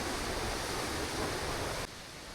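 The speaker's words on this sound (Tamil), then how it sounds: "இந்த பேர்ட்ஸ் போடுற சவுண்டும் இந்த தண்ணியோட சவுண்டும்" Steady, dense rush of water pouring through the Breitachklamm gorge between Germany and Austria, close and loud, with the roar dropping abruptly to a quieter wash near the end.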